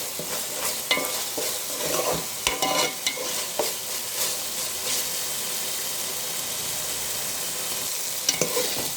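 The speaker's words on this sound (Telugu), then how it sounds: "మసాలా ఇంకా కొంచెం ఫ్రై అవ్వాలి, పచ్చివాసన పోయేలాగా" Masala frying and being stirred for a mutton gravy curry, a close, steady sizzle broken by repeated spatula scrapes and knocks against the pan.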